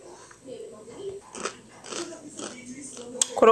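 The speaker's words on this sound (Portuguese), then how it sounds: "Biscoito crocante." Crunchy homemade biscuits being bitten and chewed close to the microphone, a run of crisp crunches and chewing sounds with a faint voice in the background.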